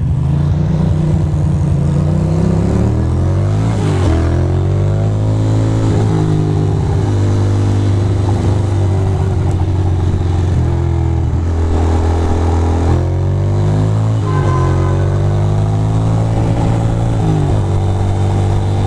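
Motorcycle engine riding on a winter road after snow, steady mid-pitched drone with repeated rising revs as it accelerates and shifts through gears, loud and close throughout with no talking.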